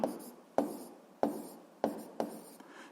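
Pen writing out a physics calculation on paper, five close, distinct scratchy strokes at roughly half-second intervals, each starting sharply and then fading, with no voice.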